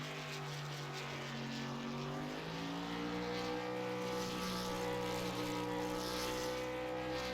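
A race truck does a tire burnout on the front stretch at Talladega, its engine held at high revs in a loud, sustained drone whose pitch climbs and wavers, with no voices over it.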